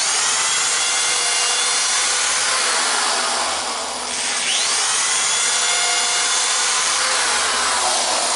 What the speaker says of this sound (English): Now I'm doing 5 screws to a board.